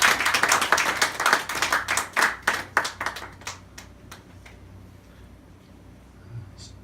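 A church congregation claps, starting in a dense burst of many hands and thinning to a few scattered claps before fading into near quiet by the end.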